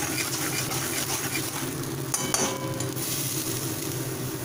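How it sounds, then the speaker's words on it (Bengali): Blended spice paste with a pinch of salt, meant for a spicy gang mourala fish curry, sizzles steadily in a pan while being stirred, a continuous close frying hiss with a couple of brief scraping knocks midway and no talking. "এবার ভালোভাবে মশলাটাকে কষাবো"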